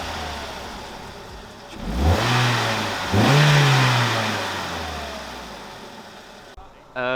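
A Renault Clio RS 200 (MK3) Cup Pack engine idles, then revs up twice in strong rising surges, each holding before slowly dropping back toward idle; loud and close.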